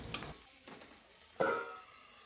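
Potato and okra bhujiya cooks on a low flame, giving a faint soft sizzle with a few gentle stirring scrapes, one louder scrape midway, and no talking.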